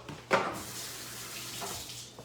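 Eggs being rinsed under a running kitchen tap while making an Italian caprese quiche: a brief splash, then a steady soft stream of water running close by for a couple of seconds.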